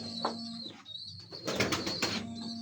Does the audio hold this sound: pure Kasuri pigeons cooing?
yes